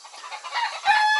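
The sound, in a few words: hen cackling after laying an egg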